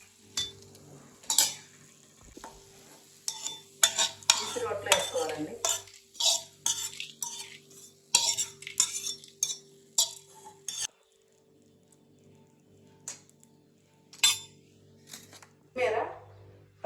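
Ingredients for a chutney being fried and stirred in a pan, with intermittent metal spoon clinks and scrapes against the pan and a faint sizzle underneath, then a quieter stretch before more stirring.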